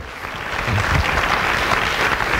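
A church congregation clapping hands together during a Sunday morning service, a dense continuous wash of applause, loud and close, with no voices on top.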